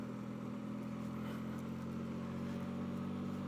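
A Can-Am Spyder RT motorcycle rides through town, carrying two people, its engine droning steadily and close with a constant low hum and wind rush throughout.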